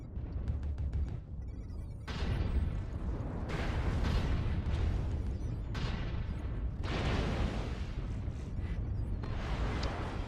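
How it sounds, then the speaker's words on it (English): Rapid missile volleys fired by a mech in MechWarrior Online, a dense run of bursts and booms. They sound loud and continuous, with short lulls between salvos. "I'm launching missiles left, right, and centre"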